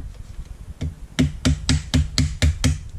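A ball peen hammer taps gasket paper on an engine for a Toro Wheel Horse tractor with a 2CV engine: about eight sharp, close knocks in a fairly even rhythm, following a few lighter taps.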